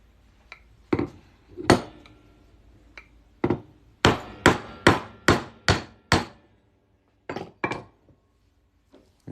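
Sharp metallic hammer blows ring out on a silver coin being made into a ring, irregular at first, then a quick run of evenly spaced strikes, each with a short clanging decay, close and loud.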